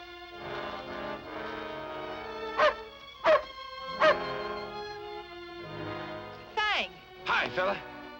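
A dog gives three sharp barks in a 1942 adventure serial scene, spaced about a second apart over sustained background music, with more yelping near the end.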